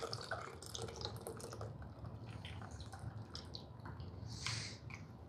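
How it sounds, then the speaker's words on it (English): Thick homemade eggnog pours and trickles through a fine mesh strainer, soft dripping and splattering close by with light clicking, no voices. "we're gonna go ahead and pour this through a fine mesh"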